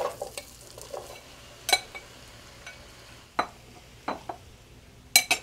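Apples frying in melted butter in a pan, a soft steady sizzle broken by scattered clinks and scrapes of a utensil stirring against the pan.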